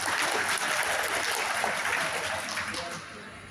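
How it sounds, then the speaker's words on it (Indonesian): Applause for a speaker at a Bank Aceh Syariah pensioners' Maulid gathering in Banda Aceh, a steady crowd clapping that fills the room for a few seconds and tapers slightly at the end. "Kita berikan aplaus kepada Bapak"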